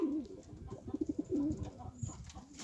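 Pigeons coo in a loft on a freezing day, low throaty rolling calls in a quick pulsing series, close and moderately quiet, with soft rustling around them.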